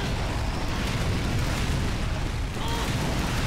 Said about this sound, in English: That's my mortars.